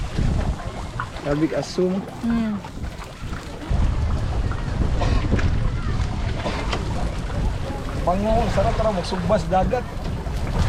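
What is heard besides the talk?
strong wind at sea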